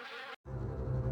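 Buzzing bees in the 1996 horror adventure game Harvester, a steady low droning hum that cuts out briefly, then returns louder and fuller, close and continuous with no talk.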